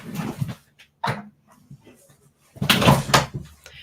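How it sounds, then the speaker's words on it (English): A dog barks in short separate bursts, a few near yelps and barks with gaps of silence between them, the loudest cluster coming toward the end. "Sorry, my dog's barking."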